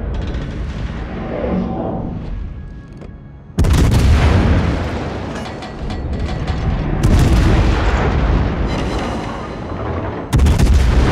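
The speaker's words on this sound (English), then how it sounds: "Concentrate fire on the enemy warship." Heavy warship guns boom in World of Warships, loud close salvos arriving in several bursts with rumbling decay between them, no talk.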